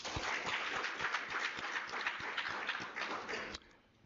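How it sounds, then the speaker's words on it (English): Audience applause at a research seminar: steady clapping from a seated crowd, moderately faint and slightly distant, with individual claps audible, stopping abruptly after about three and a half seconds. "Another round of applause."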